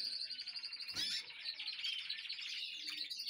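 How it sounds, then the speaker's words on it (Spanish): Captive songbirds, prized show birds, chirp and trill in rapid bright runs, close and clear, with one sharp burst near the start over a quiet background. "me gustaban mucho los pájaros que había llevado."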